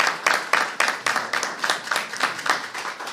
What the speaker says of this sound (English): let's give them a big, big round of applause right now